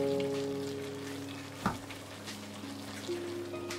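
Noodles sizzling in a pan just after sauce is poured over them, steady soft frying hiss with a few clinks, close and quiet with no talking.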